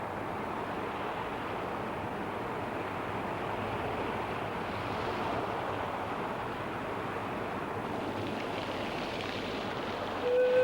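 Surf washes continuously onto a turtle nesting beach, a steady rushing hiss mixed with wind, moderately loud and unbroken throughout, with a brief louder bump at the very end.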